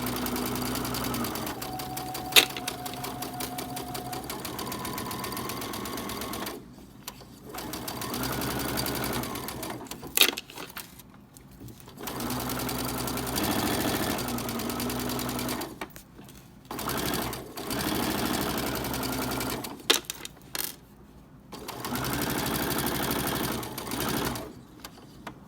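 A sewing machine stitches a larger table topper project in repeated bursts of steady mechanical whirring, stopping briefly between runs, with faint low hum in the pauses.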